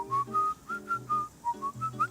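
Someone whistles a simple bossa nova melody alone, clear and close, in short phrases of held, gliding notes set off by small breaths, over a soft accompaniment in the background.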